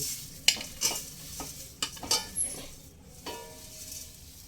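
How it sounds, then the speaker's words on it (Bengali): Flattened rice (poha) dry-roasting without oil in a wok over a low gas flame, stirred with a ladle, giving scattered clinks and scrapes over a faint crackle, close, with no speech. "লো ফ্লেমে সমস্ত চিড়েগুলোকে একদম মুচমুচে করে ভেজে নিতে হবে এইভাবে অনবরত নাড়তে হবে"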